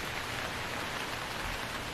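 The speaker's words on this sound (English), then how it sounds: "it looks like rain is gradually filling up my bucket" Steady rain falls in the survival game Stranded Deep, a constant dense hiss of drops spread evenly throughout with no voices or other sounds.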